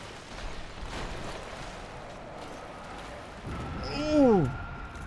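An explosion in the video game Dark Souls swells over a bed of steady game ambience, with descending whistling tones sweeping down as it peaks near the end.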